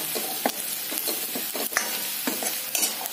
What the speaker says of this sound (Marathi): थोडंसं बेसन पण घालणार आहे मी ग्रेव्हीला थिकनेस येण्यासाठी. ते पण आपण असं छान तेलामध्ये भाजून घेणार आहोत.